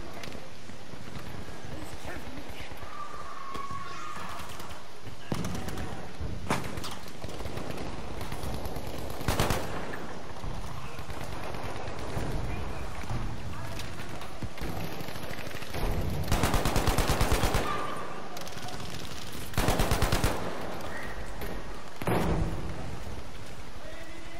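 Gunfire in the video game Battlefield V, scattered bursts and single shots over steady background game noise, with some louder close volleys toward the end while a player talks.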